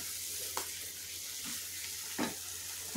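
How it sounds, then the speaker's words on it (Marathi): Peas with masala being sautéed in a pan, a soft continuous sizzle with a few faint scraping stirs, quiet and close. "आता यातच आपण त्यांना छान थोडंसं शिजवून घेऊयात, मस्त परतून घेऊयात।"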